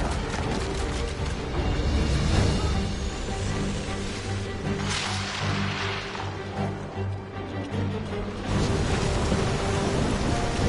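Steady heavy rain with rolling thunder in a stormy scene from the video game Guardians of the Galaxy, a dense continuous downpour with low rumbles swelling and fading and no talk.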